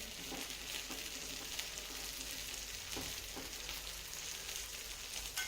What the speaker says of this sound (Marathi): मी कडनं थोडं थोडं तेल लावत आहे भाजून घ्यायचं आपल्याला दुसऱ्या पण साईडने